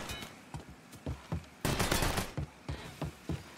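AK rifle gunfire in the video game Mafia III, sharp repeated shots at an uneven pace with one longer sustained burst in the middle, loud and close with no talking.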